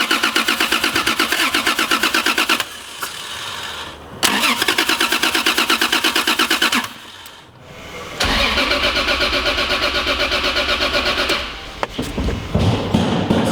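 A non-turbo Toyota Supra 2JZ-GE fitted with individual throttle bodies cranks repeatedly without firing, loud rhythmic starter chugging in long bursts separated by brief pauses, close up.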